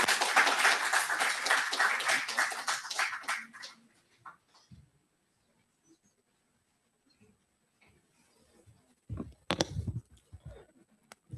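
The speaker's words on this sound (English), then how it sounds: "With a big round of applause to Sir." Applause from a plenary session audience welcoming a speaker to the dais, a dense burst of clapping that thins out and fades after a few seconds, followed by quiet room noise and a few thumps.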